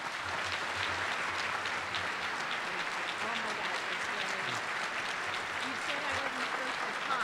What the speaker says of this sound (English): please help me honor Ricky Blair by a huge round of applause